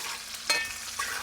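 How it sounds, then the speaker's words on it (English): Pepper frying in a brand new pot in a Trinidad home kitchen: a soft, steady sizzle with a couple of brief stirring clinks, fairly close and quiet, no talking. "So this is my pepper going in there."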